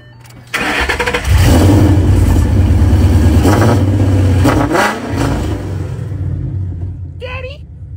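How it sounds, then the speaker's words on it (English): A car engine cold-starts with a sharp catch, then revs loudly and roughly, close by, settling into a steady idle before a voice briefly speaks near the end. "Listen to this bad boy cold start."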